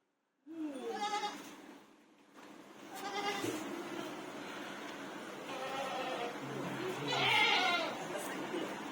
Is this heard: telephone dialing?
no